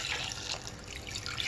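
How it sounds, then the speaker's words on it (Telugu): Water poured from a glass over potatoes in a pressure cooker, a steady splashing, trickling pour close by that runs throughout without a break. "గ్లాస్ వాటర్ వేసుకొని"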